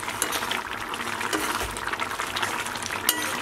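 Stirring a pot of boiling tomato kulambu, with a soft spoon scraping over a steady bubbling, simmering wash that runs throughout and has no talk.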